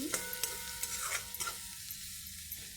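Ginger garlic paste sautéing with onions in a pan for spicy Agri-style chicken, a soft continuous sizzle with several quick stirring scrapes, no voices.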